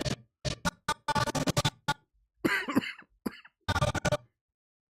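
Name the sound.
cough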